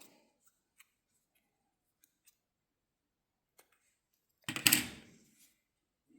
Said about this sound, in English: At the end of the row, chain 1 and cut the yarn.